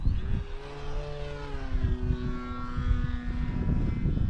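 An E-flite Commander RC airplane runs close by, its electric motor and propeller whining in steady harmonic tones that sweep slightly in pitch over a constant low rumble, with a propeller recently damaged on takeoff.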